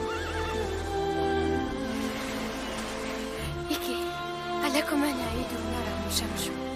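A galloping horse gives several loud whinnies over a thrumming background, with faint hoofbeats audible beneath the neighing.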